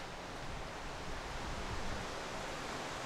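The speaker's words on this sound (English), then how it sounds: "It's blowing through here, but I want those good hard gusts." Strong gusts of wind blow outdoors, producing a steady, loud broadband rush against the microphone that swells slightly midway with no voices heard.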